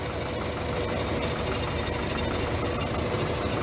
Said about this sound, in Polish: teraz ciągnik się toczy